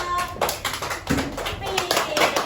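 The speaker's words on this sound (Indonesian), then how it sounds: "Tepuk tangan buat kelompok" A classroom of children claps for a student group, with quick uneven hand claps and taps coming in bursts under a teacher's voice and children's chatter.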